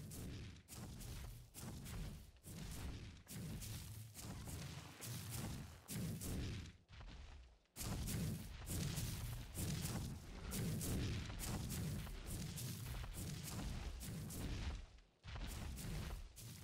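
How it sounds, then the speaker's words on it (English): Demolition gun fired repeatedly in the video game Ark, a loud, close string of heavy booming blasts in rapid bursts with brief gaps, no talk. "That's a demo gun."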